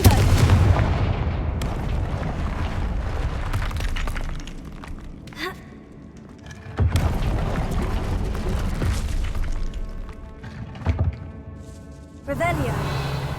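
Confringo fire spells blasting in the Hogwarts Legacy video game: several heavy, booming explosions with crackling, shattering debris, spread over a dense, continuous game soundscape.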